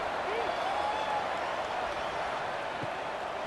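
Steady, dense roar of a stadium crowd cheering before kickoff in the College Football 26 video game, North Carolina at Pittsburgh, a continuous wash of noise with no breaks.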